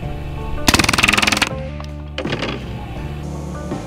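A Hatsan Blitz .30 caliber airgun fires full auto at a hog ribcage target, with a loud, rapid burst of rattling shots lasting under a second, then a shorter second burst.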